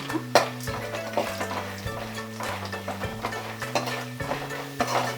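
Mustard seeds, cumin and roasted gram fry in hot oil for North Karnataka-style khara mandakki, sizzling steadily while a spoon stirs and scrapes the pan in repeated strokes over background music.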